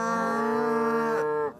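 Cattle on a farm feeding on baled wheat fed to them moo in one long, loud, close call that holds steady, then cuts off sharply near the end.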